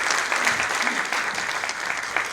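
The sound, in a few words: applause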